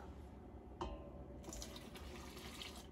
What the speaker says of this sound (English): I'm going to add my milk